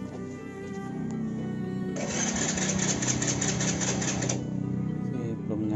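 A Honda Astrea Legenda motorcycle that refuses to start gives a rapid, rattling mechanical chatter from the starter and engine, running for a few seconds up close without catching, with a brief spoken prompt beforehand.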